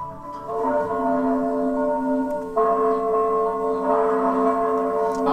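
Church bell rings loudly and steadily with a sustained ringing tone, a fresh strike midway renewing the sound, heard alone without voices.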